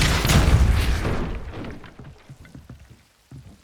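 Depulso force spell blasting in Hogwarts Legacy, a loud broadband boom that fades over about a second and a half into scattered faint knocks and debris patter.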